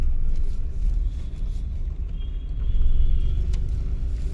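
Car engine running steadily from inside the cabin as the clutch is released, a low, continuous rumble that swells slightly toward the end with no talking.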